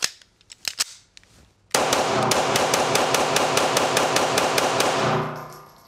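A SIG P226 pistol with a 40 S&W slide converted to 9mm fires at a range, first a few separate shots, then a fast loud string of about a dozen rapid reports that fades at the end.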